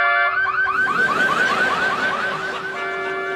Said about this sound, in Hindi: सॉरी सनी, इसका अलार्म ना कुछ दिनों से गड़बड़ चल रहा है।